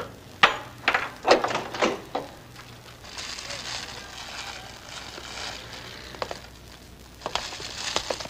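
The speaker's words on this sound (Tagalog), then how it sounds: "Buksan mo pinto." A door is opened in a dramatic scene from a Filipino film, with a few knocks or latch clatters at first and then a longer scraping, rustling swing, fairly close and without speech.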